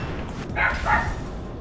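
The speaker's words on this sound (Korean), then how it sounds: "죄송해요 강아지가" A dog lets out two quick, fairly close yips or barks indoors, one right after the other, over a low background hum.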